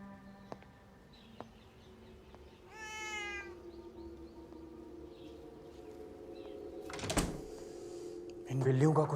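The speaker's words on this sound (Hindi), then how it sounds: "इन बिल्लियों का कुछ करना पड़ेगा" Cats meowing indoors, one clear drawn-out meow near the middle followed by a louder cry and scuffling toward the end, with faint background sounds and a voice speaking.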